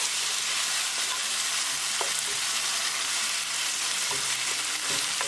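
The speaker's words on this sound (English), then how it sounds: "Add tomatoes. Mix it well" Onions and tomatoes cooking in a pan over medium heat, a soft continuous sizzle with occasional spoon scrapes and clinks as the mixture is stirred, fairly quiet and close, no talking.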